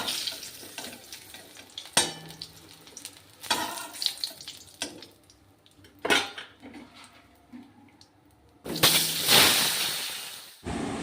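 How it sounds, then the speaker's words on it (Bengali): Eggplant slices frying in oil while metal utensils clatter against a pan, sharp scraping and clinking bursts over a soft intermittent sizzle, with a loud louder clatter near the end. "বাকি বেগুনগুলোকে এইভাবে ভেজে দেব"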